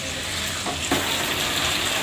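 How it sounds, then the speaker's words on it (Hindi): Sliced arvi (taro) frying in a pan for a spiced arvi dish, a dense, loud, continuous sizzle with a brief stirring shift midway. "1 मिनट तक मैं इसे फ्राई करूँगी।"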